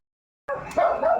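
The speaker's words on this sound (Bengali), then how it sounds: "কুকুরগুলো এরকম চিল্লাচ্ছে" Dogs bark in a short, loud burst of yapping and yips that starts abruptly and runs for under a second, close by.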